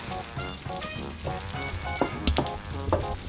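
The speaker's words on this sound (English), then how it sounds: "lower the heat down to low and let it simmer for about 15 minutes" Sauce for Ronto wraps simmering in a pan on low heat, a steady close sizzle and bubbling with occasional stirring scrapes throughout.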